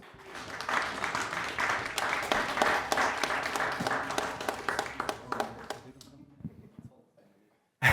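Audience applause for guests called up to a sauna panel stage, a dense wash of many hands clapping steadily for about six seconds, thinning to a few scattered claps before fading out.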